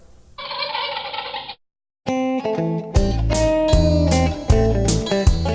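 A voice imitates a turkey gobble in a quick burst, then upbeat music with piano and drums kicks in.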